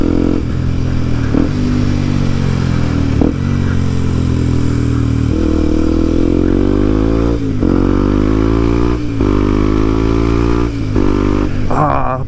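A Kawasaki KLX motorcycle engine drones steadily and loudly while riding, a continuous close rumble with brief dips and clattering bumps along the way.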